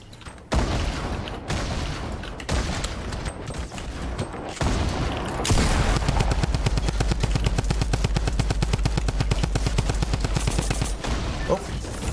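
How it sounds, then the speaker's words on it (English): Fortnite gunfire rings out in a competitive match, with rapid bursts of automatic shots and booms that build into a long, dense, evenly spaced volley, loud and close, as players talk. "You heard in the middle of that, it seems like Pokey may have forgotten you have to left-click to shoot the grenade launcher, potentially."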